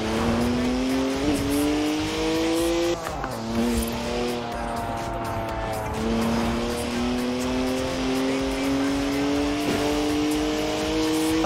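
A rear-wheel-drive BMW 1M drifting in Forza Horizon, its engine droning loud and close with rising and dipping revs through gear changes, tires squealing under the sustained engine tone.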